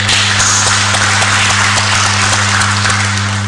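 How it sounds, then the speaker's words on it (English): A conference audience applauding a professor steadily for several seconds, dense clapping from many hands at an even level, with a low electrical hum beneath. "Please give another round of applause"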